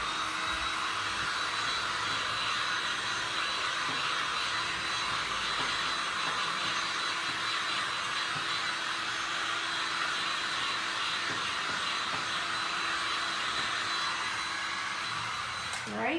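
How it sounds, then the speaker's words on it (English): A hair dryer blows steadily on painted glass and resin art, a continuous loud broadband whoosh with a faint motor whine held throughout, no talk over it. "Let's blow dry this really quick."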